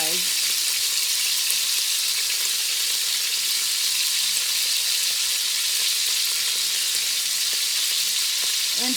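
Beef browning in batches in a hot pan for boeuf bourguignon, a loud, steady sizzle that holds unbroken for the whole stretch, close up with no talking.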